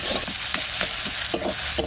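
Chopped ash gourd leaves fry in a pan under a constant hiss, with several quick spatula scrapes and stirs close by and no talking.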